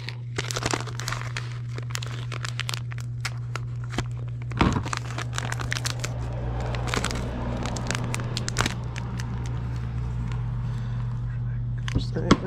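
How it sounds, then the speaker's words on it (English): Crinkly plastic packaging is torn and crumpled open outdoors beside a private pond while fishing for largemouth bass, with sharp irregular crackles and rips over a steady low hum from a nearby motor or vehicle, fairly loud and close. "Supposed to be able to just tear these open"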